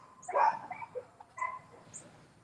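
Dogs barking indoors at a home: a couple of high yelping barks and whimpers close by, brief and moderately loud, with no talking.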